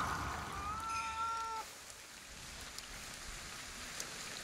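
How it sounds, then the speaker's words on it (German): A cat in the video game Ghostwire Tokyo gives one drawn-out, fairly clear meow that fades after about a second, over a steady soft hiss like light rain. "Ach da, die Katze."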